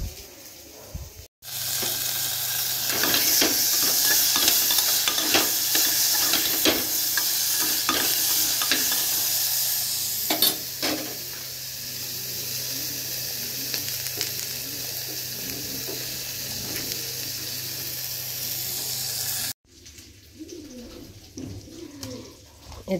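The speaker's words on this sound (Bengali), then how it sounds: "আজকে এই মাছের ডিমের বড়া করব, মানে বড়া ভাজবো" Fish roe fritters fry in a pan with a steady, close sizzle and repeated stirring clatter, while birds and cooing pigeons or doves call in the background; the frying cuts off briefly near the start and again near the end.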